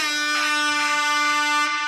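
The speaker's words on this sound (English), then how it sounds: "and we got the air horn" A loud, sustained air horn blast with a bright, buzzy tone, pulsing slightly as it holds for nearly two seconds.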